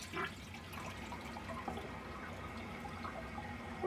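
A toilet flushes in a steady rush of water and gurgling, moderately loud and continuous throughout, with no voices over it.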